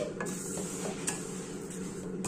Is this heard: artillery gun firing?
no